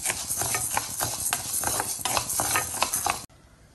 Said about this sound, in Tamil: அடுத்து இந்த கருப்பு உளுந்தை வந்து வறுத்துக்கலாம்